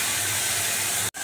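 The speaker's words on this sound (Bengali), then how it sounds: "তেলগুলো দিয়ে ভালো করে কষানো হচ্ছে" Cardamom, cinnamon and a ground spice paste of cumin, ginger, turmeric, salt and chili fry in oil for a raw mango pickle, giving a steady close sizzle that cuts out briefly near the end.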